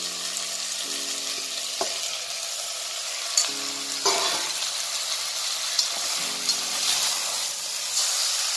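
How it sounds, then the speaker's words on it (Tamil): Mutton fries in oil with tomatoes in a pan for mutton kulambu, a steady close sizzle broken by repeated bursts of stirring and scraping, with occasional sharper clacks of a spoon. "நல்லா இந்த எண்ணெயிலே வணங்கணும்."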